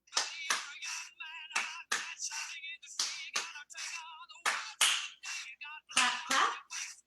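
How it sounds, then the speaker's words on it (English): Children clapping hands in an early childhood class, a rhythmic series of sharp claps in pairs and small groups repeating across the clip, close and fairly loud with no talk over them. "And now let's try clapping."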